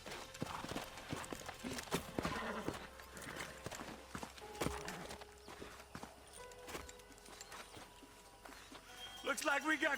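Horses' hooves clip-clop in the Red Dead Redemption video game, irregular hoofbeats mixed with game sounds and someone talking over them, with a brief bright burst near the end.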